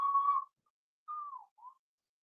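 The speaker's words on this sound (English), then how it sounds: "Oh, you mastering your whistles?" A person whistles three short notes: a steady tone, then a falling slide, then a brief chirp, alone in silence between them.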